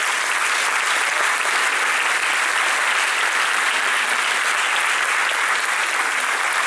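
An audience at a Thai string orchestra concert gives oboist Damri Banwittayakit a steady, full round of applause that stays even and loud throughout, with no voices over it.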